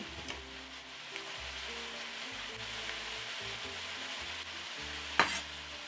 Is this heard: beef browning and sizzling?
yes